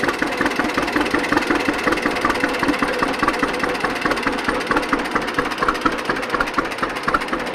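Vintage tractor engine at the Cotton Gin Festival running at raised RPM, a loud, steady and smooth rhythmic chugging heard up close without talk.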